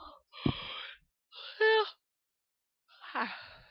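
Person yawning between bits of speech, a breathy drawn-out moan with a brief wavering voiced tone in the middle, close and moderately loud, followed by a softer sighing exhale.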